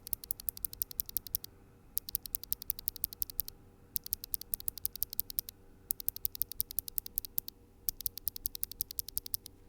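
Clicky blue keyboard switches with a metal leaf mechanism clatter in rapid, crisp bursts of typing, each run of sharp clicks broken by short pauses, close and alone.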